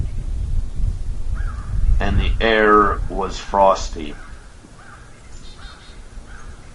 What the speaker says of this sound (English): The crows were out, and so were the birds